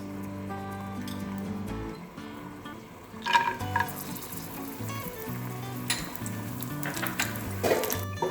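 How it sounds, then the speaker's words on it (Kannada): Dry fruits frying in a tablespoon of ghee in a pan, a soft continuous sizzle with a few clinks of utensil against the pan and some light crackle, moderately close, no talk. "dry fruits ಹುರ್ಕೊಳ್ಳೋಣ"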